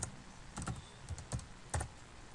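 A handful of quiet, close keystrokes tap out on a computer keyboard in short irregular clusters while a web address is typed into an internet browser.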